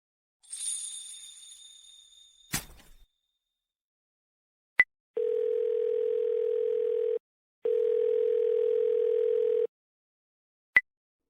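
A telephone call to a switched-off number opens with a faint chime and a click. Two long, steady ringing tones follow, separated by a short gap, with sharp single beeps between and after them.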